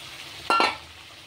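Fried potatoes and eggs drop into a pan of sizzling spice paste made with dried and green chillies. Two quick splashy bursts of sizzle rise over a low background hiss.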